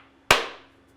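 A small coconut splits under a single sharp crack from a handheld coconut breaker, one loud close impact that rings out and fades over about half a second, with no talk.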